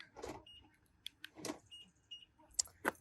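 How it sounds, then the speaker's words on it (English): BMW 335i F30 M Sport sedan locking and unlocking, heard as a few short mechanical clunks and latch clicks spread over a few seconds with small chirps near the end, fairly quiet and without talk. "One thing I really like about BMWs is the lock unlock sound they make"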